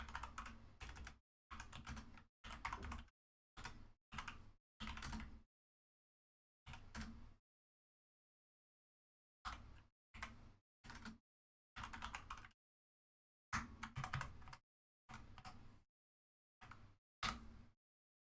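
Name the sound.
typing on a computer keyboard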